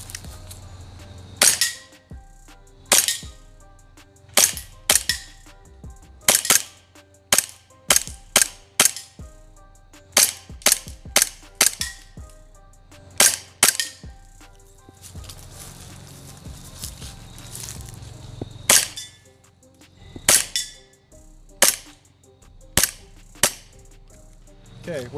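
An airsoft Glock 19X pistol fires through a full magazine of about 18 rounds, sharp close snaps spaced irregularly, single shots and quick pairs with short gaps between them.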